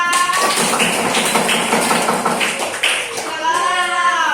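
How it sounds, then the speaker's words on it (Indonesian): A primary school class in Indonesia bursts into dense, fast clapping for a group of classmates, a continuous close patter of many small hands mixed with children's voices calling out. "Beri tepuk tangan untuk kelompok 2"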